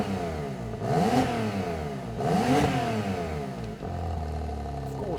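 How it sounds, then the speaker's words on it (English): A Porsche 911 991.2 Carrera 4 GTS revs repeatedly, engine and exhaust rising and falling in two strong pulls followed by a steadier drone, close and prominent, with someone talking over it. "You could slightly hear the valves open up and that natural sound from the exhaust and from the engine"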